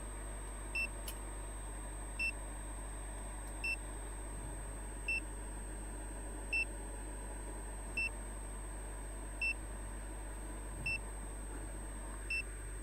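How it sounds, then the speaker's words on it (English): Short electronic low-battery warning beeps from a face shield repeat at a steady interval of about one and a half seconds, faint, over a low constant hum. "You can all hear the beeping."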